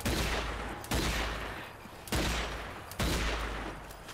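Pistol shots from an M911 in the zombie shooter game Zombie Army 4: Dead of War, four loud, booming reports spaced about a second apart, each trailing into a long echoing decay.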